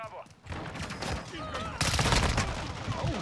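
Rapid gunfire bursts ring out in Call of Duty Modern Warfare II during a multiplayer match, with sharp repeated shots that grow louder and denser in the second half, while a voice talks over them.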